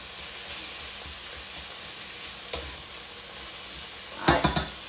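Peppers and onions sauté with fajita meat in a pan, giving a faint steady sizzle, with a few louder stirring scrapes near the end.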